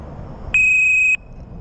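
An ABUS disc lock alarm sounds its arming signal, a single loud, steady high-pitched beep lasting just over half a second against a quiet background.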